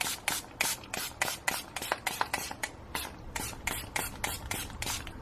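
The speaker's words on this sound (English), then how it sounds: "I'm going to make sure that I spray this thoroughly with" Rapid short bursts of alcohol from a spray bottle hiss onto small pieces for making embeds, about twenty quick squirts in an uneven rhythm, close and crisp, with a pause partway through.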